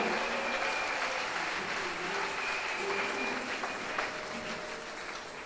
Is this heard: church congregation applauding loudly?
yes